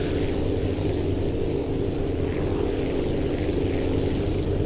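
A large bomber-style propeller plane in the video game Aviassembly roaring steadily at takeoff power, a dense, constant engine drone that stays loud and even throughout.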